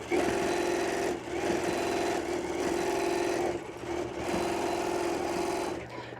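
Janome M8 sewing machine running with its automatic stitch regulator, a steady loud mechanical hum and whir that pauses briefly twice before resuming, heard alone without talk.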